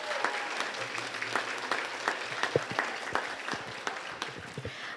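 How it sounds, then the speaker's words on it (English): An audience at a school recognition assembly applauds students, steady, moderately distant clapping with scattered sharper individual claps, lasting about five seconds. "Can we give these students a round of applause,"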